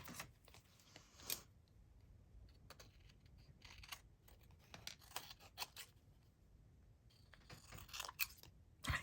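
Scissors snipping yellow paper scraps close up, a quiet run of crisp cuts and small rustles with uneven pauses between them, with no talking.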